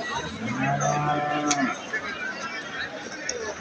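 A large-framed young cow at a cattle market gives one long, loud, deep moo that fades after about a second and a half, with people talking nearby.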